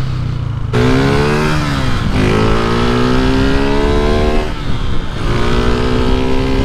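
A Honda CG 160 motorcycle engine revs loudly up and down several times, with rising and falling tones and a rough, crackling exhaust note close by.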